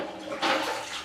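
Hot water poured over a grain bed for an oat whiskey mash, a steady close splashing rush that swells briefly and then continues evenly.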